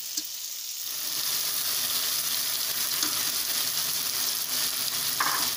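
Kachri and crushed ker hit cooked masala in hot oil, raising a steady, loud sizzle and frying crackle that holds throughout, with faint stirring clicks and no talk.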